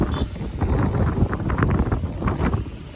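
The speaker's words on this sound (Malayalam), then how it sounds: "കാറ്റാടി ആയതുകൊണ്ട് നല്ല കാറ്റുണ്ടല്ലേ" Strong wind at a windmill site in Munnar roars and buffets the microphone in a steady, rumbling blast, with gusts swelling and easing throughout and no voices.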